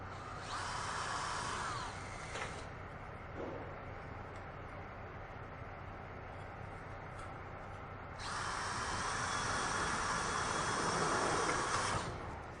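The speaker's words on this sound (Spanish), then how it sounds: "Como es un calibre reforzado, yo le debo de colocar un tornillo brocado." Power drill driving self-drilling screws into a reinforced metal ceiling profile, two loud sustained whining bursts near the start and end with a steady hum between.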